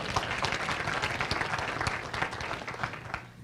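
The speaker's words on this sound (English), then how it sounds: "Thank you, and please give them a round of applause." Steady applause from an audience at a legislative summit, many hands clapping together in a dense, continuous patter that eases slightly toward the end.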